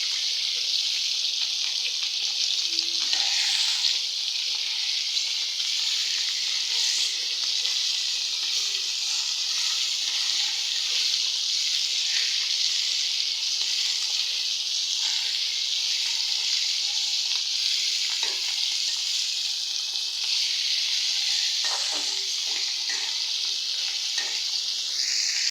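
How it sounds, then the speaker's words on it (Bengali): Pieces of hilsa fish fry lightly in hot oil, a steady, close, unbroken sizzling hiss that holds evenly throughout with faint occasional crackles and no voices. "আমি এখন হালকা ভাজা দিয়ে তারপরে রান্না করব"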